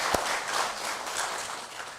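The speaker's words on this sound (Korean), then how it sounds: "박수를 한번 축하합니다." A church congregation claps in celebration during a Sunday worship service, a steady, fairly soft wash of applause that holds for about two seconds.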